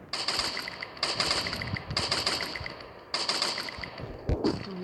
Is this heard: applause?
no